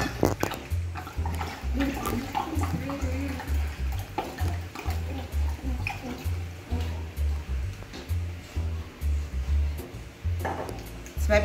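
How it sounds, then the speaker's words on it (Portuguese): A litre bottle of dry red wine is poured in a kitchen, with a continuous glugging pour in steady rhythmic pulses throughout. "colocando aqui uma garrafa, um litro de vinho seco"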